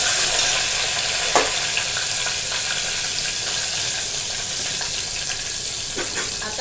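Chopped mint dropped into hot tempering oil gives a steady close sizzle with a few scraping stir sounds, and no voices.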